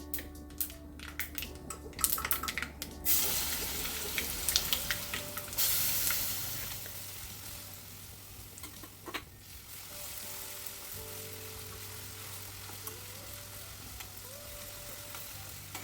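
Loud crackling sizzle as garlic paste hits hot oil after mustard seeds have popped, with stirring scrapes, settling into a softer steady frying hiss.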